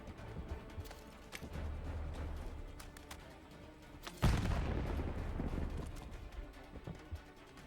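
A grenade detonates in the Call of Duty Warzone video game, a sudden loud boom at mid-clip followed by a rumbling, crackling tail over steady gunfire and battle ambience.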